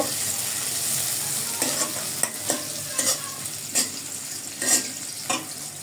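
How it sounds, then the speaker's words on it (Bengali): Chopped onions and green chillies sizzle in hot oil in a pan, a steady loud fry broken by repeated scraping stirs every half second or so, with no voices. "কুচি করে রাখা পেঁয়াজ আর মরিচগুলো দিয়ে দিলাম আর এই পেঁয়াজ পেঁয়াজগুলোকে আমি বেশি একটা ভাজবো না"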